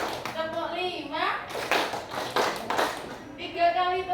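Hand claps come in short counted groups during a concentration exercise in a training session, sharp taps spaced between a spoken voice giving the counts.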